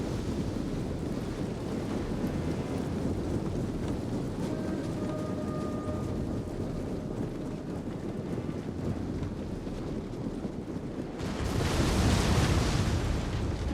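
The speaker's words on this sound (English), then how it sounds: "we're gonna go with some explosive rounds" Explosive artillery rounds landing in a Total War: Rome 2 battle: a constant low roaring rumble, then a heavy booming blast bursts in loudly near the end and lingers.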